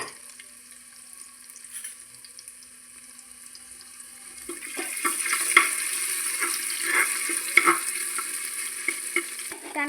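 Garlic and ginger sizzling in hot oil inside a pressure cooker for a simple pulao, starting as a soft steady hiss and swelling into louder crackling with clinks from stirring, no voices.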